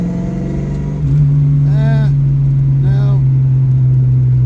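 Carbureted car engine in third gear floored from about 35 mph at 2,000 RPM, with a steady low drone that swells louder as the throttle opens, then labours without rising much; a voice speaks briefly over it.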